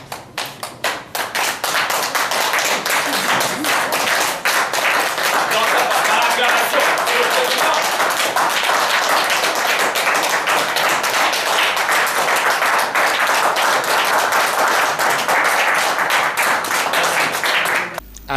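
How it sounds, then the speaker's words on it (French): Sustained applause from an assembly at a JCI Libreville local convention, acclaiming the newly elected local president; dense, steady clapping fills the whole stretch with some voices mixed in. "Pierre-Joachim Nguema est porté à la présidence locale par acclamation"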